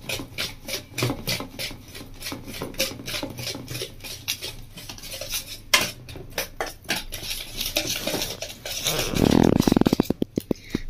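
Egg mixture for a mixed-vegetable bread toast beaten in a bowl, a steady run of quick scraping, clinking strokes close by, turning louder and more vigorous near the end, with no talking.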